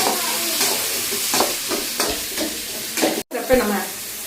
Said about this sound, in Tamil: நல்லா போட்டு வதக்கிக்கலாங்க